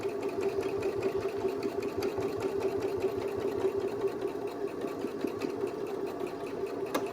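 A sewing machine stitching a fabric mask with black thread, running steadily at close range with a constant whirring hum and fast mechanical chatter throughout, no pauses and no talk.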